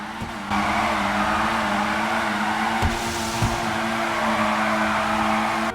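A tuner car drifting in GTA Los Santos Tuners gives a loud, continuous engine and tire roar with a sustained squeal-like hiss over a steady low drone, with no talk.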